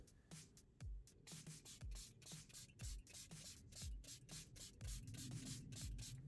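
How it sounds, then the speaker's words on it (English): A spray bottle of soapy water is pumped in quick, repeated squirts onto a Kia EV6 touchscreen, each a short hiss with a soft click, close and fairly quiet. "I'm going to take the soapy water solution and spray it really good."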